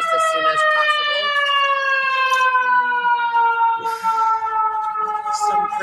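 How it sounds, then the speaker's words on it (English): A loud, close ambulance siren wails with a slowly falling pitch sweep that runs through the whole clip, while a voice talks faintly underneath. "Some person is ignorantly needing the help of an ambulance while I'm shooting video."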